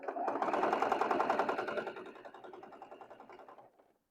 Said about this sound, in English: we're going to sew them up here, and we're just going to keep sewing each block